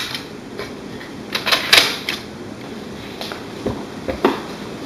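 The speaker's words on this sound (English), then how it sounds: "Push back the paper guides." Paper guides in the tray of an HP Color LaserJet Pro M183FW printer being pushed back, giving a run of close, light plastic clicks and slides, several in quick succession, with no talking.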